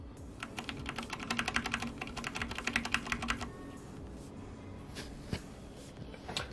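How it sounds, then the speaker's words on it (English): Steady typing on an Ampro 2 mechanical keyboard with Cherry MX Brown switches and key switch silencers, rapid clustered keystrokes for a few seconds, then a few sparse isolated key presses, close and fairly quiet. "Let me get you guys a little sound test."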